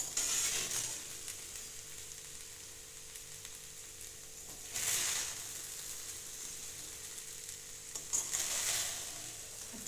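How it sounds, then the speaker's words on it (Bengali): Basmati rice for a vegetable pulao, cooked with ghee, gently stirred in a pan with a soft, steady sizzle and a few scraping strokes of the spoon, quiet and close, no talking. "একটু আলতো করে এইভাবে নেড়ে নেব, তাহলে এটা একদম শুকনো শুকনো হয়ে যাবে।"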